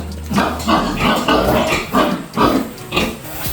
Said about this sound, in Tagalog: Punta tayo dito sa kulungan kasi marami ditong baboy.